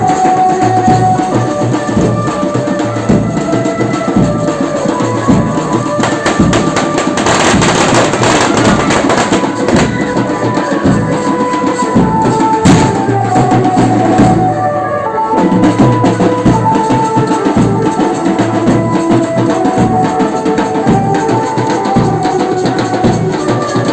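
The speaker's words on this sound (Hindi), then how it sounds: "गांव में दिवाली से पहले ही पटाखे फूटे" Firecrackers burst in a village in Chhattisgarh ahead of Diwali, with dense, continuous crackling and popping that grows loudest in the middle, heard alone with no talk.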